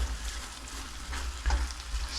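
Beans and cheese torta frying in oil in a pan, a steady close sizzle and crackle with a brief louder burst midway, no talking.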